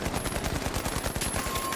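Rapid automatic AK rifle fire in the shooter game The Finals, a dense, steady burst of close, loud shots with no pauses, heard alone.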